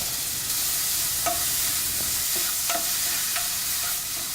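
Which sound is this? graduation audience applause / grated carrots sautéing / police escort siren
grated carrots sautéing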